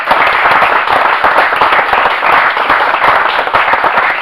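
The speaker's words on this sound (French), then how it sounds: "alors vous pouvez applaudir avec moi votre vie." A church congregation claps hands together in loud, dense, continuous applause that holds steady throughout with no break.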